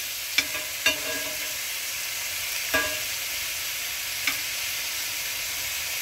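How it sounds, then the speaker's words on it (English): Yellow squash and zucchini frying in a skillet give a steady, soft hiss of sizzling, broken by a few light clicks of a utensil turning the pieces, close and quiet with no talking. "Try to get those that aren't cooked as much down on the bottom on the skillet, so they'll cook some"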